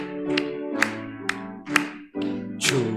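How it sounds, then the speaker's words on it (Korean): A church congregation claps along at a Sunday worship service as a hymn begins, giving five sharp, evenly spaced claps over sustained organ-like chords. "우리 함께 박수하며 믿음으로 고백하겠습니다"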